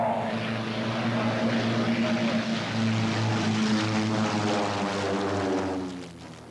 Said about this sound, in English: The planes look like antiques, but actually they're modern pit specials designed for aerobatics.